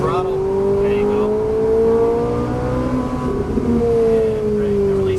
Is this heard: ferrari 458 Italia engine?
yes